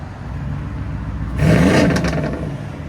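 A Mercedes-AMG car launches hard, its engine note jumping sharply louder about halfway through into a loud, rising revving roar that holds, then eases slightly, over a steady low background rumble.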